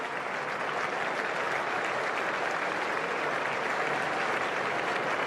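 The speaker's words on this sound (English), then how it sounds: "And they're cheering down there on the hill." A cricket crowd at the Adelaide Oval during the 2006–07 Ashes second Test applauds and cheers in a dense, steady roar that holds from a distance for several seconds, with no voice over it.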